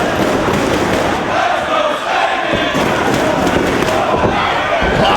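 Wrestling crowd in Woodbridge, Connecticut, a loud, continuous roar of cheering and shouting with scattered thumps and slams underneath, staying dense and steady throughout.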